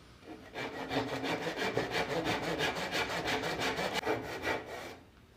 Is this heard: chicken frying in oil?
no